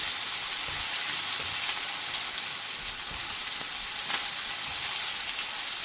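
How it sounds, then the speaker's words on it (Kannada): Chopped onion frying in a pan over a low flame for a palya of carrot, beans and potato, giving a steady, even sizzle that runs unbroken throughout with no talking. "ಸ್ವಲ್ಪ ಈರುಳ್ಳಿ ಒಂದನ್ನು ಹೆಚ್ಚಿಟ್ಕೊಂಡಿದ್ದೀನಿ, ಅದನ್ನು ಹಾಕ್ತಾ ಇದ್ದೀನಿ"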